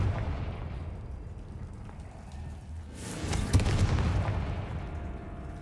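A Confringo fire spell in Hogwarts Legacy erupts into a rumbling, booming blast midway, swelling from a low background roar into a loud burst that crackles and fades, with no talking.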